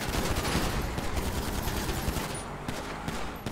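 Dense gunfire from a GTA roleplay video game shootout, rapid overlapping shots forming a continuous loud fusillade throughout, with no voices.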